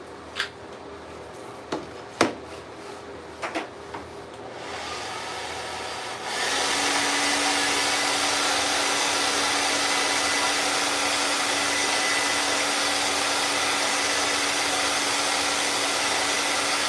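Dryer blowing onto a freshly filled chip repair coating: a few light taps, then a steady loud whooshing airflow starts and runs continuously, close to the listener.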